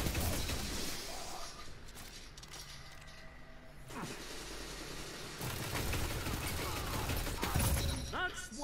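Loquitor IV auto rifle fire in Destiny 2 Crucible, rapid automatic bursts of gunfire with distant shots, mechanical clatter and game effects, a louder sustained burst late on.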